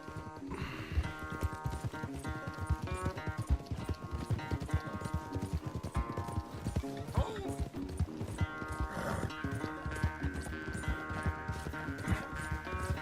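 Horses gallop in Red Dead Redemption 2 during a race, producing steady rapid hoof clip-clops throughout over layered game music, with an occasional whinny and faint voices.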